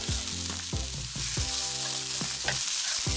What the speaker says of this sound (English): Make a space in the center, add the garlic, and sauté for 30 seconds.